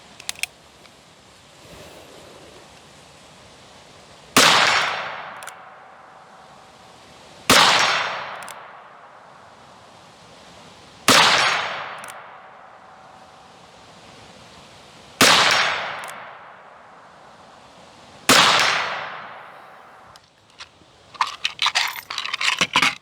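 Five loud, sharp revolver shots from a Ruger Single Six firing .22 Magnum high velocity rounds at cans, evenly spaced a few seconds apart, each with a long echoing decay outdoors, followed by a brief scatter of clatter at the end.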